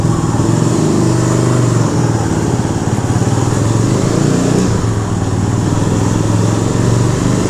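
A 1965 Honda CB160 twin-cylinder motorcycle runs steadily while being ridden, its engine drone loud and continuous for the whole stretch with no break and no voices.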